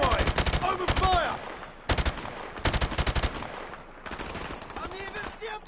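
Machine gun fire in the shooter game Call of Duty 4: Modern Warfare comes in loud rapid bursts with short pauses between them, close and sharp, with game voices briefly heard between the volleys.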